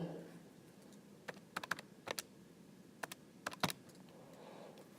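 Numbers are typed on a computer keyboard in short, irregular runs of crisp key taps, fairly close, over a steady low background hiss.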